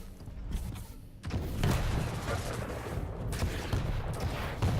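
A rocket explodes during a video game duel match, a heavy booming blast among dense bursts of game gunfire that fill the clip loudly and continuously.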